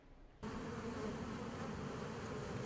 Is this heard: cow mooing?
no